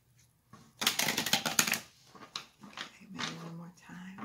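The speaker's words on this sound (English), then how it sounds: "I'm going to shuffle these a little more," A tarot deck is shuffled by hand in quick rustling, flicking bursts, loud for a second or two and then in shorter separate riffles with pauses between.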